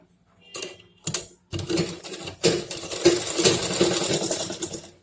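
A sewing machine stitches a fabric waistband for a Patiala salwar, starting with two brief bursts and then running in a longer steady whir, close and moderately loud.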